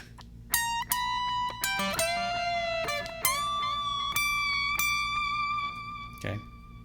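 Electric guitar playing the first solo from a metal song, with sustained bent notes held, slightly released and rebent, plus quick picked phrases; a clean, close, moderately loud solo line with no talking.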